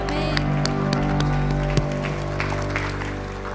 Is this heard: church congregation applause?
yes